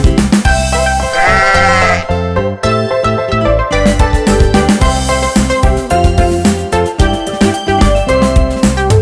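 A bleating sheep sings within a bouncy nursery-rhyme tune, its wavering baa riding over loud music with bass and percussion; the bleat sounds like a voice imitating a sheep rather than a real animal.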